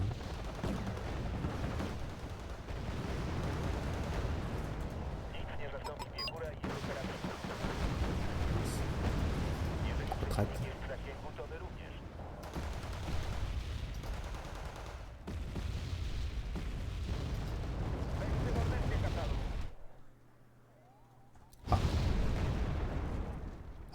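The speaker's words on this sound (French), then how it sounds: "Il a détruit un véhicule. Allez, il tire dessus." Gunfire and explosions from the war strategy game Wargame Red Dragon, with continuous rumbling bursts and blasts across the whole span, dropping briefly to near silence before a loud burst resumes.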